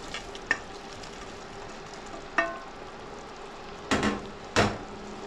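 Fried potol and potato tipped into boiling gravy, giving short clattering bursts of vegetables and utensil hitting the pot over a low steady simmer, about four distinct splashes spaced apart.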